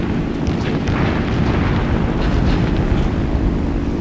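Anti-aircraft fire and explosions in an aircraft combat video game form a dense, continuous rumbling roar of booms and blasts, loud and steady throughout.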